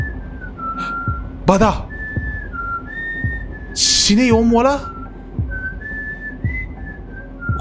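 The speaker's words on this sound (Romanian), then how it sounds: "Și fluieră cineva" Someone whistles a wandering tune inside a passenger train at night. The thin, steady notes run through the whole stretch, broken by short pauses, while people nearby talk loudly and excitedly over them.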